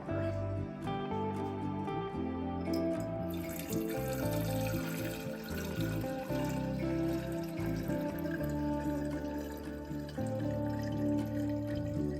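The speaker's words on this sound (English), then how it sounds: "And we're just going to carefully pour it into our jar." Homemade elderberry syrup pours steadily into a quart-sized mason jar, a continuous liquid trickle and gurgle close up, with a clink at the start and no talking over it.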